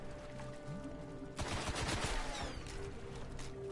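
Gunfire in the shooter game Destiny, a sudden burst of rapid shots beginning partway in and rattling for about a second before fading into echoing tail, loud and close.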